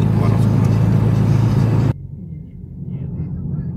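A car driving along a village road through Voeykovo, heard as a steady, loud interior road rumble with engine drone that drops noticeably quieter about halfway through and then continues at a lower level.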